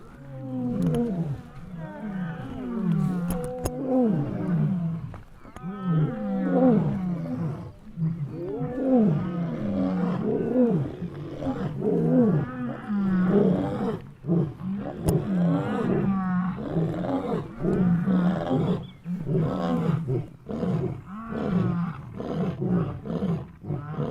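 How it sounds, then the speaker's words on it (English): Several lions roar and grunt in rhythmic, repeating bouts, loud and close, overlapping one another throughout with brief pauses between calls. "got all the lions roaring"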